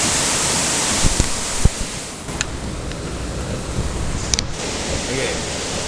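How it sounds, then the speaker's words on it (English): Zeballos River in flood during a January rain-on-snow event, surging through standing waves at the main bridge: a steady, loud broadband roar of rushing water with wind noise and a few faint thumps. "notice the surge from the standing waves"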